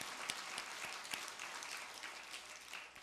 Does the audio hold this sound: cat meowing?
no